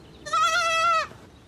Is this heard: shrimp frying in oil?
no